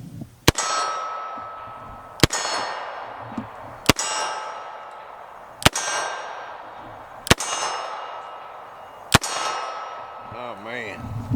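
Vintage 1966 Colt Python revolver with a 4-inch barrel fired double action at steel targets: six loud sharp shots at an even pace, each followed by a ringing metallic clang that decays slowly, with faint rustle between.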